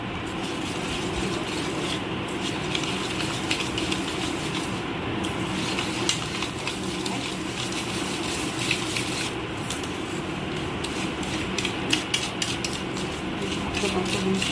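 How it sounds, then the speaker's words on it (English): Butter and sugar being whisked together in a bowl for a mawa cake, a steady scraping, rubbing texture that continues throughout at an even, moderate level. "Right, we add the entire sugar to it. And we whisk it"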